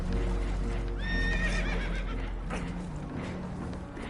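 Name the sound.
spooked horses whinnying in Red Dead Redemption 2 video game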